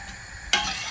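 Amti for puranpoli being stirred in a pot as it boils, a sudden sizzling bubbling burst after a quiet moment, continuing steadily and close.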